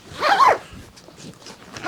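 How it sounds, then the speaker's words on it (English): A single quick zipper pull on a motorcycle adventure touring jacket, a zipper running around the jacket, close and loud, followed by faint rustling of fabric. "we've got a zipper that runs basically all the way around"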